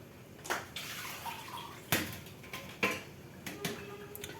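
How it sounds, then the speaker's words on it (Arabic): Soaked olives drained of water, with several sharp splashes and clatters at uneven intervals as the water is tipped off, close and fairly quiet. "ها هو غنصفيه وغنلوح."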